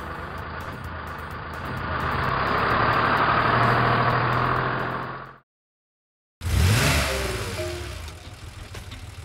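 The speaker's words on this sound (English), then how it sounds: "Tow truck." Close, loud idling of a tow truck engine, a steady throbbing rumble that cuts to a second of silence and then returns as a sharper, rougher revving burst, with nobody talking.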